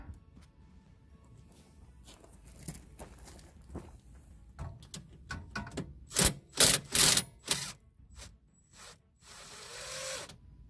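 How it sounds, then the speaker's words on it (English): Bolts come off the rear bumper of a CF Moto Cforce 600 Touring ATV, with scattered metallic clicks and ratcheting taps building into several loud sharp clanks, then a brief rattling rustle at the end. "I'm going to pull off these bolts down below on the bumper here."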